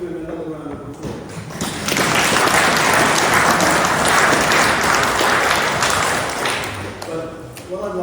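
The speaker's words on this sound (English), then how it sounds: "I think we should do another round of applause" An audience at an Oxford for Europe event breaks into a round of applause that swells into dense, sustained clapping for several seconds and then tapers off.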